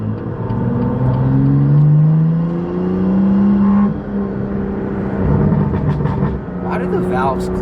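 Toyota GR86 GT4 car engine and intake droning from inside the cabin while driving, a steady loud hum rising and settling with throttle, with a person talking over it.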